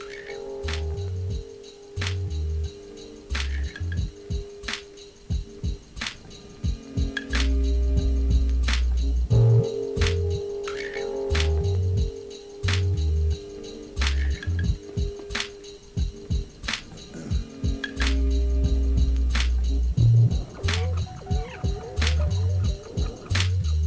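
A boom-bap hip-hop song plays steadily, with punchy kick and snare hits on a regular beat, a sustained bass line and layered melodic parts, fairly loud and continuous with no talking over it.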